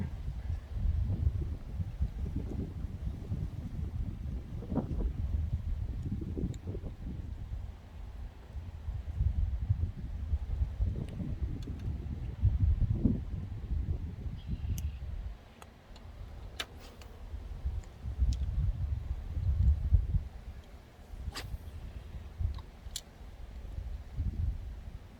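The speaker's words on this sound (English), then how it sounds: "in Kansas, we got so much wind" Steady low wind buffets the open air around a Kansas pond, a continuous rumbling roar with gusts swelling and easing over the whole stretch, with faint small ticks scattered above it.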